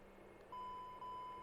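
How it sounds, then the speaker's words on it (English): An alarm beep in a Q400 flight simulator cockpit: a steady electronic tone sounds twice, each starting abruptly and holding on, over a constant low cockpit hum with no talking. "That's the alarm."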